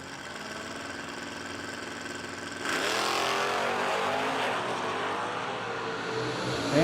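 A 1991 Camaro and a Mustang sit at a drag strip start line, engines droning steadily before a sudden loud surge as both cars launch into a sustained, roaring full-throttle run.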